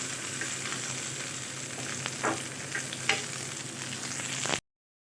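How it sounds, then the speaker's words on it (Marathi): Green chillies frying in a spoonful of oil in a pan for Marathwada-style thecha, giving a steady, dense sizzle close up with a few stirring knocks, then cutting off abruptly. "हे पाहू शकता आपल्या मिरच्या थोड्या थोड्या भाजल्या आहेत तर छान असं भाजू द्यायचं आहे"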